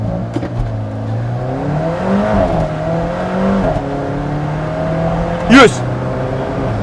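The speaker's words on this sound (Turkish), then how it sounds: "start finish düzlüğünde launch kontrolle bir kalkış yapacağım" A car makes a launch-control start on a race track's start-finish straight, its engine revving hard and climbing through several gear changes as it accelerates flat out to 100 km/h, loud and close, with a voice speaking briefly.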